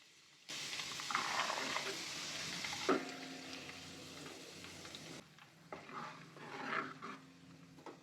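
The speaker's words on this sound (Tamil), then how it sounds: "இந்த இலை நல்லா பொரியணும் நெய்யில்" Loud, crackling sizzle of leaves frying in hot ghee, with bursts of hissing and spattering that briefly ease and then flare up again.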